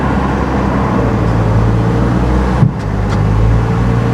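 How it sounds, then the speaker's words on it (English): A Vortec truck engine idles right after a jump start, a loud, close, steady low drone that holds throughout, broken by one brief clunk midway. "Oh, it fired right up and it runs good."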